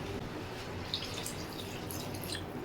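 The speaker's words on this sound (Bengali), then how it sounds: "এখানে আমি একটু জল দিয়ে দিলাম" Water poured into a pot of curry made with fish roe and taro, a soft continuous trickling and dripping splash, close and fairly quiet, with no voices.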